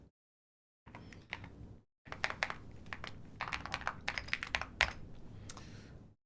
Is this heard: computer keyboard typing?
yes